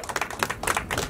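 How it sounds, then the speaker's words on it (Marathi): Loud, dense audience applause at a Marathi stage event where actors compete in an ukhana contest, with rapid overlapping claps filling the whole moment. "यांच्यासाठी जरा जोरदार टाळ्या होऊन जाऊ"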